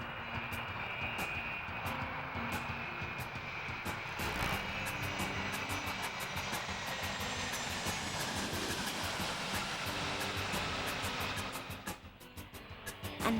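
A loud, steady roar of a four-engine double-decker airplane's engines as it lands carries on for a long stretch, then eases off near the end.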